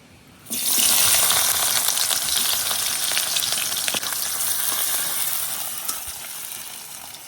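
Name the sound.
onion and garlic frying in oil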